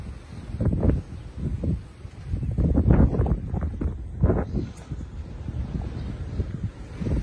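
Strong wind gusting around a tree at Jaywick on the English coast, buffeting the microphone in uneven roaring surges that swell and ease over several seconds, close and fairly loud.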